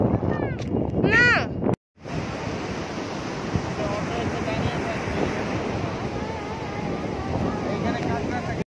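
Sea waves and wind roll in at Paradeep beach, a continuous broad wash of surf and gusty wind noise on the microphone, following a brief burst of voices before a short gap.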